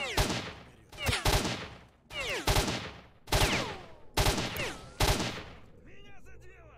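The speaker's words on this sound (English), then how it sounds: "I can shoot a gun too." Gunfire in the video game S.T.A.L.K.E.R.: Shadow of Chernobyl, six loud close shots in an uneven rhythm, each ringing out with a short echoing tail.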